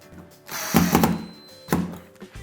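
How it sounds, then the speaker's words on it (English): A cordless drill whirs in two short bursts with a couple of dull knocks, driving a screw for a wall shelf, close up and moderately loud, no talking. "take your cordless drill and drive it in"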